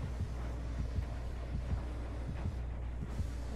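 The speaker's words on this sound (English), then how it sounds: "Oh, there's a lot of heartbeat there," The killer's heartbeat terror radius in Dead by Daylight, a low, regular thudding pulse repeating steadily under a humming game ambience, no talk.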